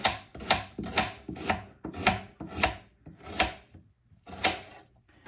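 Food chopped by knife on a wooden board, about a dozen close, loud rhythmic strokes, each a sharp knock with a short scraping tail, pausing briefly before the last few.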